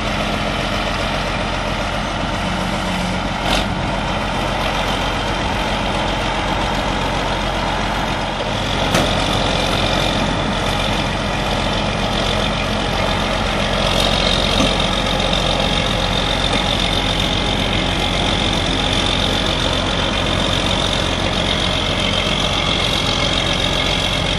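An Isuzu vehicle's engine runs steadily and loud, close by, with a constant rumbling drone and no talk, while the vehicle is being driven out of Gulf Shores after a 2004 hurricane.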